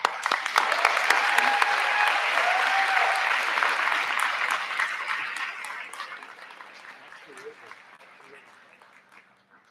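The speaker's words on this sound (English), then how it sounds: "Can we please give Professor Shaniza another round of applause, please" A large audience at a college commencement ceremony claps in sustained, dense applause that gradually fades toward the end, with faint voices mixed underneath.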